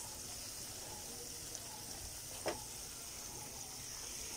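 Kashmiri dum aloo potatoes sizzle steadily in hot oil, a continuous close frying hiss with one brief louder crackle partway through and no talking.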